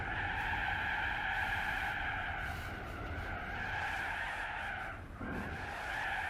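Tires squeal in a long, loud screech as a car oversteers and skids in Gran Turismo 4, with the squeal dipping briefly and then resuming over steady engine noise.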